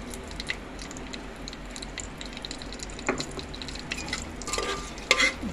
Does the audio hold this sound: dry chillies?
yes